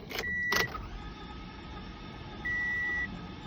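A broken-down 2014 Toyota with no compression cranks with a thin electric whine, two short bursts at the start and then a longer steady whine, close up with no one speaking.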